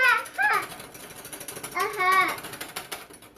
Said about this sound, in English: We're gonna whisk it really good until everything is combined.